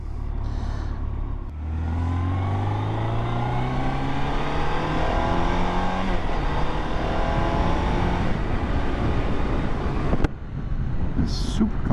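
A 2000 BMW K1200RS sport-touring motorcycle pulls away after being kicked into gear. The engine note climbs steadily under acceleration with wind noise over the microphone, then drops with a gear change near the end. The sound is close and fairly loud.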